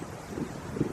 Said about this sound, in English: It is really windy today, so forgive the wind noise.